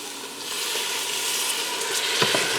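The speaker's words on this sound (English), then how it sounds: "I'm going to get that in there and I'm going to deglaze the bottom of the pot" Beef broth poured into a hot Instant Pot Duo Crisp set on saute for beef stew: a continuous close hiss and sizzle with light stirring scrapes, rising briefly near the end.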